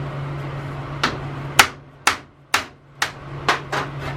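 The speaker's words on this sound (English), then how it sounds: "hitting it on the back here with a dead blow hammer, this clutch is starting to move off of this shaft" Dead blow hammer striking a clutch to drive it off the shaft of a 1942 Toro Parkway sickle bar mower: seven sharp, evenly spaced blows about half a second apart, close and loud, over a steady low hum.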